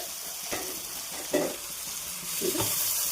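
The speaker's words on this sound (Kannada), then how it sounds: "ಈಗ ಒಗ್ಗರಣೆ ಆಗಿದೆ" Onion tempering sizzling in hot oil in a home kitchen while a ridge gourd curry and stir-fry are prepared, a steady faint crackle broken by a few louder stirring scrapes and bursts, with no voices.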